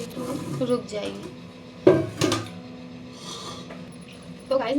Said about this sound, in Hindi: मैं यहाँ पे बर्तन समेट रही हूँ